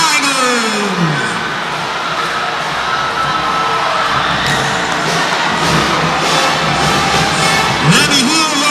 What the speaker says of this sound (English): And the crowd goes wild for the NCF